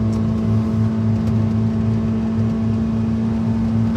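A Mitsubishi Town Box van's engine drones loudly and steadily at high revs while holding a gear, a constant close in-cabin hum with a strong tonal whine and no voices over it.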